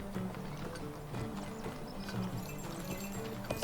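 A warhorse trots through a town in Lord of the Rings Online with a steady, quiet clip-clop of hooves that keeps an even rhythm throughout.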